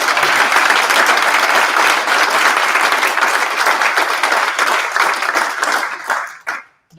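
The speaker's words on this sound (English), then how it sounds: "Let's give a big round of applause to all of us." An audience at a young entrepreneur showcase and awards event gives loud, sustained, dense applause that holds steady for several seconds, then thins and drops away near the end.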